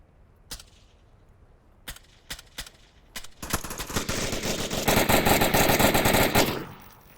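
Gunshots in the Onward VR video game: a few sharp isolated shots first, then a heavy, sustained burst of rapid automatic fire that builds loudly before cutting off.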